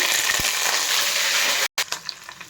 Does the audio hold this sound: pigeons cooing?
no